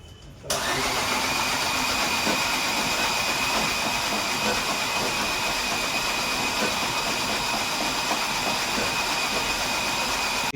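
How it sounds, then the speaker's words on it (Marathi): A Maruti Swift diesel car engine, just serviced and decarbonised, cranks and starts after a brief quiet moment. It settles into a loud, steady, close idle with a constant high whine and no talking. "गाडी खाली उतरून आता आपण इंजिन चालू करणार."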